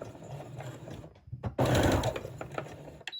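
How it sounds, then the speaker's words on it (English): A sewing machine runs in bursts while reverse stitching to secure the end of fabric bunting, its motor whirring close and loud with a sharper rattling run midway, then a brief click near the end. "And again, when we get to the end, using our reverse stitch"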